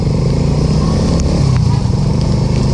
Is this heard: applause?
no